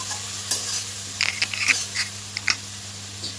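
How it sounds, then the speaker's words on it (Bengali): A spice paste for egg tadka is sautéed in a pan, its soft sizzle broken by quick scraping stirs and light clinks of the spoon, close and fairly quiet. "ওই মশলাটা দিয়েও আমি ভালোভাবে কষিয়ে নেবো তিন থেকে চার মিনিট মতো ভালোভাবে একটু কষিয়ে নেব"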